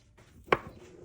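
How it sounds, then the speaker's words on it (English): One crisp knife stroke slices through a cheddar sausage on a cutting board. It lands as a single sharp, close tap with a soft follow-through in a quiet kitchen. "I'm just gonna cut little slices."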